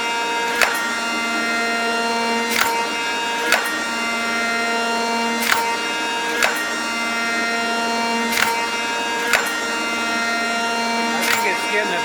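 A wood shaper cutting a surface as the stock is fed through runs with a steady high mechanical whine and humming harmonics, broken by sharp knocks and clicks every second or two.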